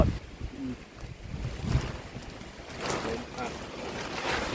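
Strong wind gusts roar through a rainstorm outdoors, buffeting the microphone in waves with a steady wash of rain noise, while people talk intermittently nearby.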